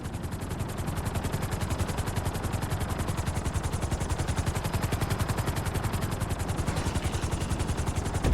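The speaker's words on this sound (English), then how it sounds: "Bring the helicopter down gently onto the helipad." Helicopter rotor in GTA 5 during a helipad landing, a steady rapid chopping beat held at even loudness throughout, with no talk.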